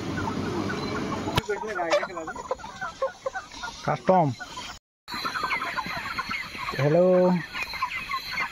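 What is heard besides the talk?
broiler chickens clucking at a poultry farm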